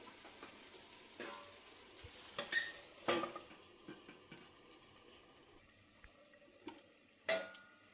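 Chicken curry sizzles gently under a lid on a low flame: a soft continuous frying hiss broken by scattered pops and a few sharp clinks, with no voices.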